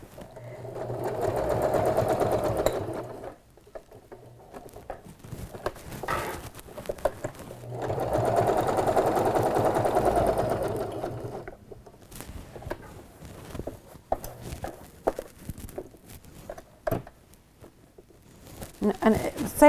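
Home sewing machine stitching fabric for a sleepover bag, two sustained bursts of steady mechanical whirring a few seconds long each, separated by quieter pauses with soft handling rustles and a voice speaking.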